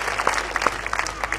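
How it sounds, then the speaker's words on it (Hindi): Audience applause at a Hindi poetry gathering, a brief, faint patter of scattered clapping from a crowd. "एक बार सरदार जी के लिए आपकी तालियां उठनी चाहिए पूरे मन से"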